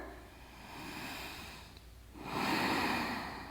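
Slow, deep breaths during a yoga forward fold: a long, soft airy exhale followed by a fuller, louder inhale, close to the microphone with no talking.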